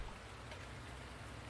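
Steady, even rain patter in the video game Farming Simulator fills the whole moment, a dense soft hiss with no voices over it.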